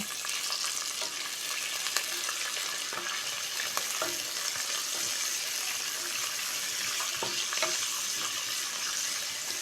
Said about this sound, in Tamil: பெரிய வெங்காயம் நல்லா கோல்டன் ப்ரௌன் ஆகட்டும், நல்லா ஃப்ரை பண்ணிக்கோங்க